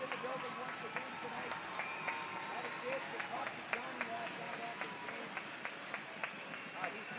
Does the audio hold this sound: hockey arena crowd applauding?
yes